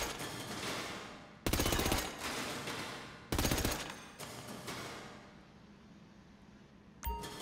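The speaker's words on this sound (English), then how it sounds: "let's just do the micro submachine gun" A micro submachine gun fires in GTA 5 in two loud, rapid bursts of about half a second to a second each, separated by a pause, with reverberant tails and a short metallic clank at the end.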